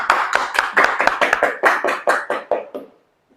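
A small classroom group claps quickly for about three seconds, the close, dry claps coming fast and slightly uneven before fading out into silence.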